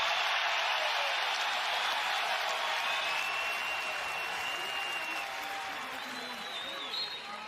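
A large arena crowd at a college wrestling meet between Iowa and Penn State at Carver-Hawkeye Arena cheers and applauds in a steady, loud roar that fills the whole stretch and eases slightly toward the end.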